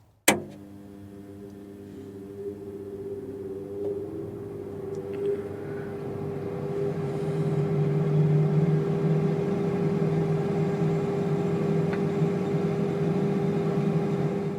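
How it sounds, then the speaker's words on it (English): A 1960s chord organ's fan runs as a steady mechanical hum after a sharp click at the start, growing slightly louder and then holding level, with no voices. "you can hear that fan continually in the background there"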